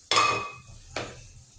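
Green beans with green onions are stirred in a pan, two quick scraping strokes about a second apart over a faint sizzle.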